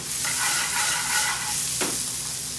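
Diced onions with green and red peppers fry in a pan over a gas flame, giving a soft steady sizzle with a brief stirring scrape partway through.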